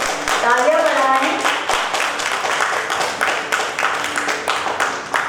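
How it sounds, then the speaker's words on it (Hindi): An audience applauds award winners at an honorary doctorate awards ceremony, with steady clapping that comes and goes at close range while a host speaks over it. "तालियों में बड़ी कंजूसी है, तालियां बढ़ाएं"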